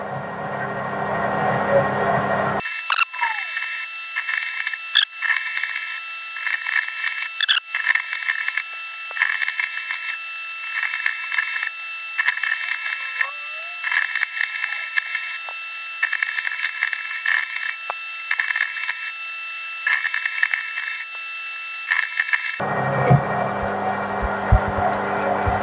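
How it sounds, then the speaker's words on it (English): A centre drill bores into metal on a lathe, giving a steady high whining, ringing cut that runs for about twenty seconds between stretches of lower workshop noise. "we're past the tip of the centre drill now, so it's going to get smoother"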